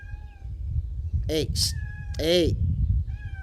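A cat meows twice in quick succession, close and fairly loud, the second cry longer and more drawn out, while someone talks casually around it over a low background hum.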